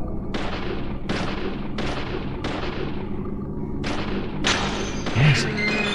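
Rapid gunfire in a ghost-hunting video game, a series of about six sharp shots spaced roughly a second apart, close and loud over a low background hum.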